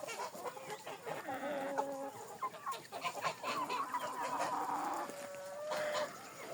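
Chickens and roosters cluck and call in overlapping bursts nearby, a busy, fairly soft stretch of farmyard chatter.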